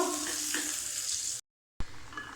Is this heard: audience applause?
no